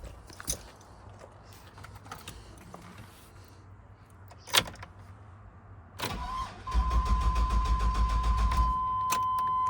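A 1999 Chevy Astro van that has been sitting with mice inside gives a few door thumps and clunks, then its starter cranks the engine in a rapid, steady chugging rhythm for several seconds before settling into a constant hum.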